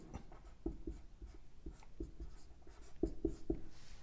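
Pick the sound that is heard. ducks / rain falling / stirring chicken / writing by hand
writing by hand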